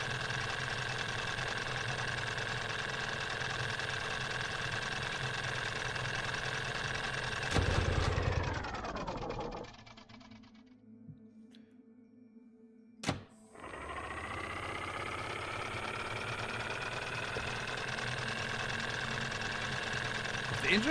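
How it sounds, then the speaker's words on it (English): A machine's engine in the Escape Memoirs game hums steadily, then winds down into near silence, gives a sharp thunk, and starts back up to a steady hum. A voice talks over it at times. "The engine starts up"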